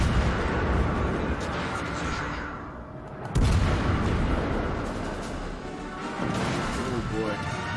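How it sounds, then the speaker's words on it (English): Enemy shells and gunfire striking around a warship in World of Warships, heavy booming impacts with a sharp crash near the middle, under steady engine and sea rumble with someone talking. "Oh boy, this guy's shooting at us."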